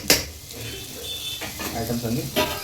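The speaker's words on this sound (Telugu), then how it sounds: "కారం వేసాం కదా అడుగంటకుండా ఒకసారి కలుపుకుంటే మనసు ప్రశాంతంగా ఉంటుంది" Spiced bodakakarakaya (spiny gourd) curry stirred in a pan, a short burst of soft sizzling with clinking spoon-on-pan scrapes, while a voice talks over it.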